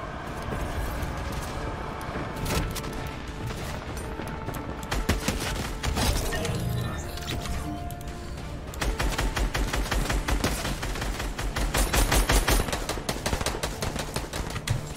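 Rapid automatic gunfire from the video game Fortnite rattles in dense bursts, with heavier volleys later on and short gaps between strings of shots.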